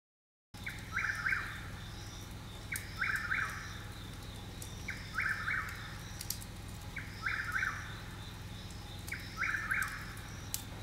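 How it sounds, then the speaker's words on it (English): Whip-poor-will at night near a cabin, its repeated three-part call sounding roughly every two seconds, fairly distant and faint over a steady low background hum. "That's the sound of a whippoorwill."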